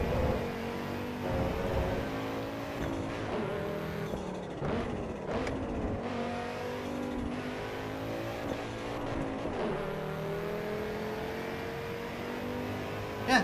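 An all-wheel drive car in a racing video game revs and shifts through gears, its engine note climbing and dropping steadily at close range with no talk over it.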